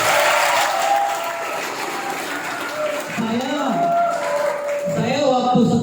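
Audience applause for a student at a school orientation session, a broad steady patter of clapping filling the room while a voice talks over it, with the crowd noise continuing throughout.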